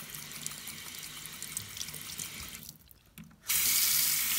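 Warm water runs steadily from a tap into a sink while mochi squishies are washed, a continuous broadband rush that briefly thins as the flow is interrupted, then returns louder and fuller.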